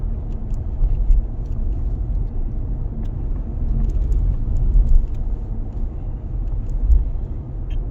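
Peugeot 508 Hybrid car cruising on cruise control at about 30 mph, a steady low road and engine rumble with tyre noise, continuous and fairly loud inside the cabin, no talking.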